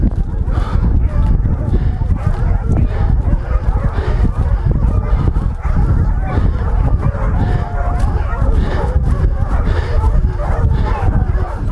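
A pack of hunting dogs barks and yelps during a wild boar hunt, with dense overlapping barking throughout under continuous loud outdoor noise and voices.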